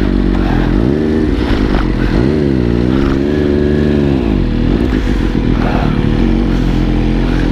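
Two small motorcycles ridden onto a racetrack for a club endurance track day, engines droning loudly and close, with pitch rising and falling as the throttle is worked, under steady wind and road noise.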